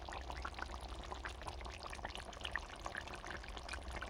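A cooked Bengali lemon chicken curry made with gondhoraj lemon and chopped coriander is poured out of a pan, giving a steady thick liquid slither and sizzle that runs nearby and continuously, with no talk.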